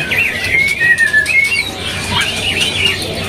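Caged songbirds, including white-rumped shama and green leafbirds, begin singing at an Indonesian bird market kiosk, with loud, close whistles and chirps over a busy background murmur.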